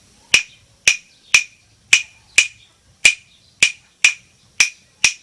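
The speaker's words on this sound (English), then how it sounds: "This one in Latin American music is they're called claves." Hardwood claves are struck together ten times in a fairly steady rhythm, each click sharp, bright and close, with brief silence between hits.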